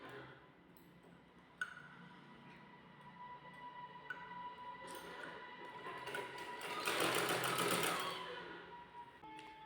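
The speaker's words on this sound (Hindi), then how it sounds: "देखिए इस तरह से यहाँ से हम स्टिच करना प्रारंभ करते हैं।" A sewing machine stitches piping onto a net fabric blouse, its faint mechanical whir and rapid needle clatter rising to a louder burst late on, with a few soft clicks before.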